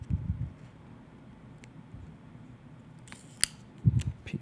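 Scissors snip a small piece of tape during a turntable vinyl modification. A few faint, short, sharp cuts and soft handling noises come late against a quiet background.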